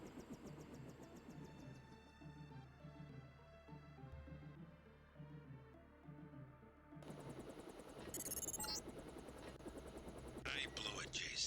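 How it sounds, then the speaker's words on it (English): Deus Ex stealth helicopter in flight, a steady rotor and engine hum running throughout beneath spoken dialogue, joined later by a louder burst of mechanical noise and bright clattering. "Time to see if this stealth copter is worth all the fuss."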